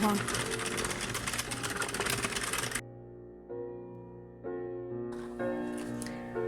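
An Addi Express King Size knitting machine is cranked through rounds, giving a rapid clattering of plastic needles and gears, then a quieter stretch with a voice speaking over faint mechanical clicks.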